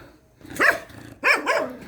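A dog barks three times, loud and close: one bark, a pause, then two quick barks in succession, with quiet background between, in a hillside subdivision in La Trinidad, Benguet.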